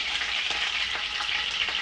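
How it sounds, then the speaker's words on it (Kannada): Curry leaves sputter in hot tempering oil for ridge gourd sambar, giving a continuous close sizzling hiss with small popping bursts throughout and no speech. "ಕರಿಬೇವು ಹಾಕಿದ್ದೀನಿ"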